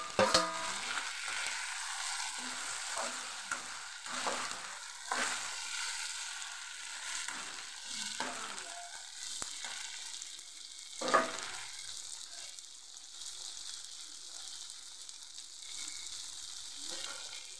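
Chopped tomatoes sizzle and crackle in a hot pan for a prawn and fish curry, with steady frying hiss broken by clattering stirs and scrapes of a spoon, close and fairly loud, no voices.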